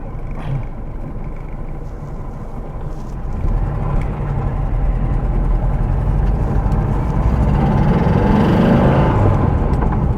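A Porsche 912 engine idles at low revs, a steady, close, low rumble that grows a little louder partway through and keeps a constant rough drone to the end, with no voices over it.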